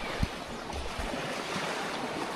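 Sea waves at Gatasan Beach in Catanauan, Quezon, making a steady, broad roar of surf with a soft thump near the start, heard close and alone.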